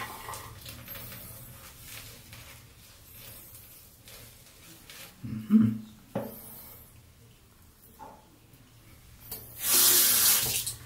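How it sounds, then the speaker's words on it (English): Tap water runs briefly onto a boar-bristle shaving brush, a quiet splash followed by a louder, steadier burst of running water near the end, with no talk. "just add a little bit of water to your brush"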